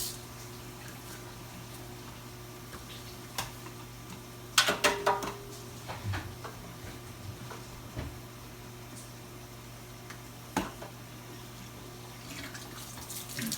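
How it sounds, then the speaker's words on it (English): Hot water runs steadily from a tap in a quiet room, with scattered clinks and knocks of handling over the soft flowing hiss, filling a Bissell 2x Pet Pro Heat carpet cleaner. "I'm just gonna put some hot water in."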